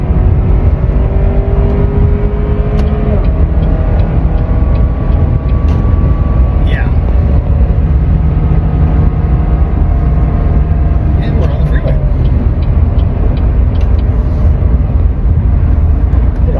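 A 2014 Cadillac ATS 2.0T AWD accelerating onto a freeway, with a steady loud engine and road drone inside the cabin and the engine pitch rising and shifting through gear changes.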